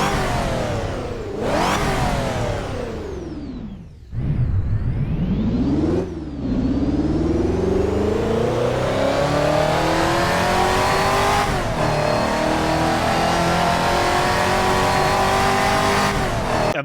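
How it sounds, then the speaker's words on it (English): Lamborghini 4GT engine in a racing video game revs hard and repeatedly through rising gear pulls, with brief drops between shifts, loud and continuous with a faint tire squeal. "the 4GT as well gets some new sounds"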